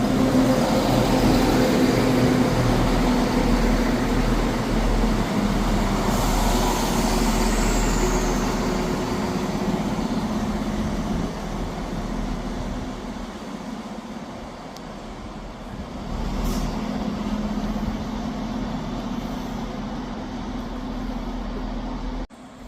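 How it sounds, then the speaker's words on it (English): A ScotRail passenger train runs into Edinburgh Haymarket station with a steady, loud rumble of engine and wheels, a brief high squeal along the way, and the sound easing slightly midway before holding steady. "And arriving in now, we have a Scotrail service from, to Edinburgh."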